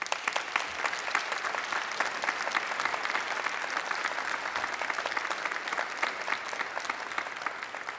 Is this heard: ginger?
no